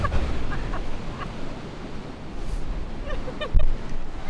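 Ocean waves wash along the Great Ocean Road coast in a continuous surf roar with wind, swelling and easing, and a sharper wash near the end.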